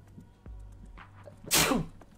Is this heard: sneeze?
yes